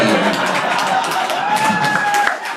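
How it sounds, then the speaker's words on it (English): Comedy club crowd applauding and cheering during a stand-up set, loud, close and continuous clapping with whoops and a raised voice rising over it, tapering slightly at the very end. "thank you for applauding alcoholics"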